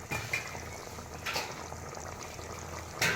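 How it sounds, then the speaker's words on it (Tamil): Masala for a vegetable and chickpea biryani bubbles in a pot, a low steady burbling with occasional louder gurgles and a brief burst near the end, close and moderate in level, with no talk. "நம்ம பிரியாணிக்கு தேவையான மசாலாலாம் வெந்துட்டுருக்குது."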